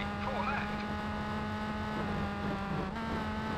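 Rally car engine from the V-Rally 3 game on Xbox, Swedish stage, held at full throttle as a steady droning tone with a constant pitch and even loudness throughout.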